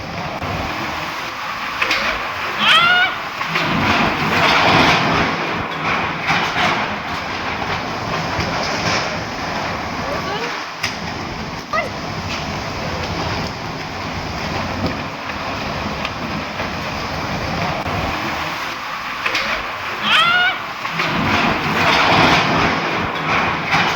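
Strong storm wind roars steadily in a housing society in Fursungi, Pune, where a parking roof was blown off. The blustery rush carries gusty surges over about twenty seconds, and no one speaks.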